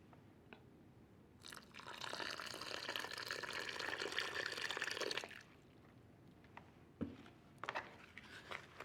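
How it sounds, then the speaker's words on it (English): Water pours steadily onto dirt for a few seconds with a soft splashing hiss to make mud, then stops, leaving quiet scraping and a couple of light knocks. "I've got my dirt, and I'm going to add a little bit of water."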